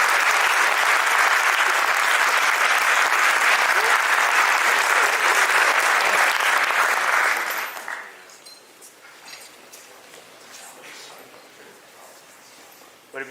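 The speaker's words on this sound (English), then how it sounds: "Give them one more round of applause." Loud, sustained applause from an awards ceremony audience greets the wing staff, a thick wall of clapping that ends abruptly after about seven seconds, leaving quiet room noise and faint murmurs.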